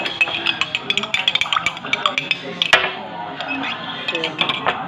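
Utensils clink and scrape against a pot while food is stirred, a steady run of sharp metallic taps with one louder knock, close and moderately loud with no talk.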